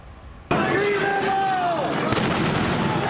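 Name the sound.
flashbangs fired by federal agents at protest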